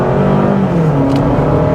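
A 2023 Honda CR-V in normal drive mode accelerating, its engine note steady and loud from inside the cabin, pitch rising through the run with a gear shift midway and continuous road and engine drone.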